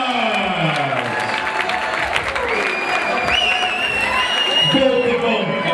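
At a Muay Thai event in Toronto, a crowd claps and cheers for both fighters after a bout, with steady loud applause and scattered whoops while an announcer's amplified voice talks over it throughout.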